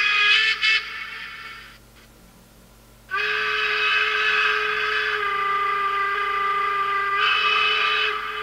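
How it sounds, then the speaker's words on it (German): Steam whistle of a Gützold TT scale class 65 museum locomotive model: a short shrill toot, a brief pause, then a loud sustained whistle lasting about five seconds, alone over a faint mechanical hum. "Dampfpfeife."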